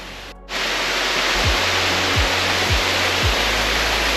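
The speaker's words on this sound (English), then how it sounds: "Didn't expect to find a waterfall in this grotto, but very pretty." A small waterfall splashes inside a rocky grotto on a creek hike, a steady, loud, broadband rush that swells in after a brief quieter moment and then holds unbroken, with a few low thumps beneath it.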